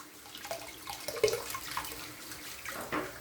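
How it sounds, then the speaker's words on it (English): Tap water running into a sink while it is rinsed out after shaving, a close splashing flow with a few clinks and drips, fairly quiet and with no voices. "All right, I'm gonna rinse the sink out."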